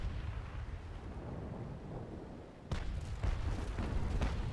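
Ship cannon fire in the naval combat game Naval Action, a low rumbling barrage of distant booms that swells into a louder, denser volley partway through, with no talk.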